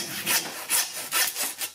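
A hand saw rasps back and forth through a pig's foot in steady strokes, each pass a harsh scraping burst, close up with no voices.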